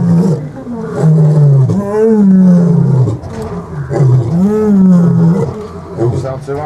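Lions at a lion park roar in territorial calling, two long rising-and-falling roaring bouts, loud and close, with a brief pause between them.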